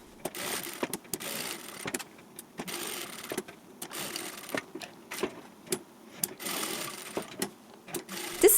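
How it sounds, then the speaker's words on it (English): A sewing machine stitches fabric and quilt wadding together in short, rapid bursts, its motor whirring and needle clattering close by in stop-start runs with brief pauses between. "You can simply guide your presser foot along the raw edge of the fabric and sew all the way around."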